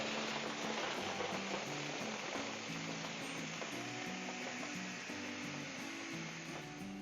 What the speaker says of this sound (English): Turn the power on, and then just blend until it's slushy.